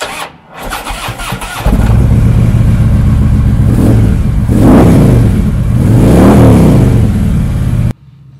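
A 2014 Harley-Davidson FLHTK Electra Glide Ultra Limited with a 103 cubic inch V-twin cranks and fires into a loud, deep rumble, then swells through several throttle revs before shutting off abruptly.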